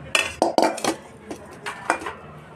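Metal pots and pans, including a kadai, being handled and set down: a quick series of sharp clanks and clinks, close and fairly loud, with no talking.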